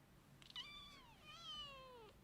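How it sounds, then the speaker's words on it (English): A chatty foster cat meows twice, in two drawn-out, wavering cries close to the microphone, with no talking over them. "She is one chatty cat. She won't stop meowing."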